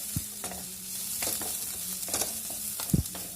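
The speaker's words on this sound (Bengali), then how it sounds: "ব্রাউন হওয়া পর্যন্ত আমি এটাকে ফ্রাই করবো।" Chicken deep-frying in hot oil for Schezwan chicken, nearly brown: a steady close sizzle with a few sharp stirring knocks and scrapes spread through it.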